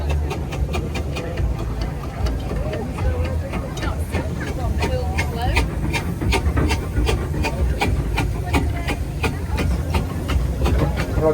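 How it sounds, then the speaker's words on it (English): A compound steam traction engine runs at a steam and traction engine rally, giving a steady rhythmic chuffing with hiss and a low mechanical rumble, close by and loud, with crowd chatter underneath throughout. "Again, a compound engine."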